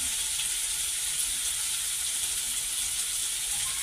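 Fish frying in oil in a pan, a steady, even sizzle and hiss that stays close and constant with no talking.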